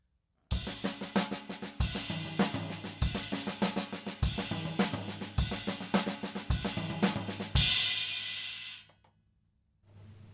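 A drum kit plays a steady groove alone, ride cymbal pings alternating with snare hits and low tom thuds, ending in a crash that rings out.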